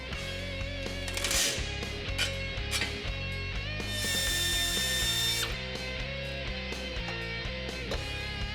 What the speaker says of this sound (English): when you're using a Pitman arm puller, it can store up a little bit of energy